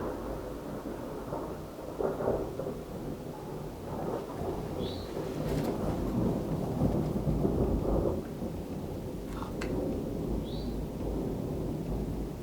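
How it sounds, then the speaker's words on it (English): Deep thunder rumbles and rolls through a thunderstorm over steady rain, swelling louder in the middle and fading back, with no one talking. "I really, really don't like thunder."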